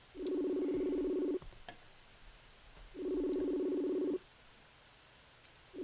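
A telephone call rings on the line: a steady electronic ringback tone in two long, even bursts separated by a gap of quiet background, with no talking.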